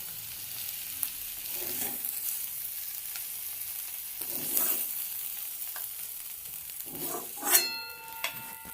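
Bathua greens frying with eggplant in a pan give off a soft, steady sizzle, broken by a few louder bursts of stirring and scraping as the dish finishes cooking.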